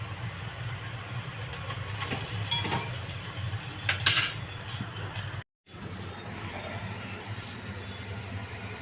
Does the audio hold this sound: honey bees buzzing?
no